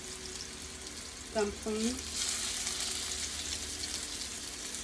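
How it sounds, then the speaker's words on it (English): Chicken blanket dumplings fry in a skillet of hot oil, giving a steady close sizzle and crackle throughout, with a short burst of speech near the start. "I'm going to pop it down in the oil."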